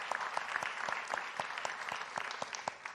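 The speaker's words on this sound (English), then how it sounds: "A round of applause for our journalists from across the Commonwealth." A crowd at a Kentucky gubernatorial debate applauds the journalist panelists, with distinct individual claps standing out over a steady wash of clapping that carries through the whole clip.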